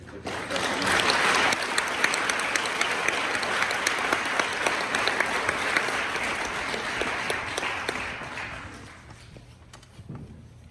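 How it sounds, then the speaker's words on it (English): Sustained applause from a large crowd at an outdoor Veterans Day ceremony, loud and steady for about nine seconds before thinning out into a few scattered claps. "Please join me in welcoming Technical Sergeant Austin Rubidoux with a round of applause"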